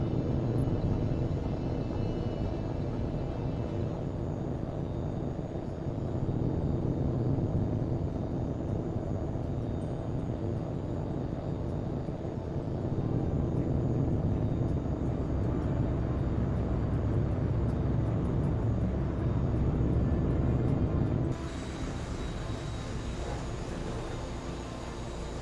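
Jet fighter engine roaring through a takeoff in the combat flight game H.A.W.X. 2, a steady loud rumble that holds for over twenty seconds and then drops slightly near the end.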